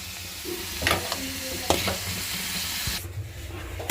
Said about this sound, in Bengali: একটু বাদাম ভর্তার জন্য পেঁয়াজ মরিচ ভেজে নিতেছি, পেঁয়াজ রসুন, আর এই তো মরিচ ভাজা হয়ে গেছে